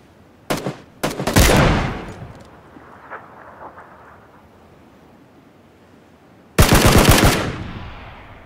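Bursts of machine-gun fire in a video game, one short volley followed by a longer loud burst, then a quiet stretch and another sustained loud burst.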